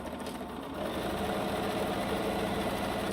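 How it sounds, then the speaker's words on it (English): Sewing machine stitching quilt squares with a quarter-inch seam for a quilt block: a steady, loud mechanical whir that picks up slightly after a moment and runs continuously alone. "you're going to sew 1/4 inch, same as the others"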